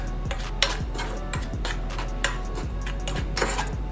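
Spoon scraping and clinking against a bowl while sugar is stirred into an eggless quinoa chocolate pudding mix, with repeated close clatters and soft rubbing in a steady rhythm.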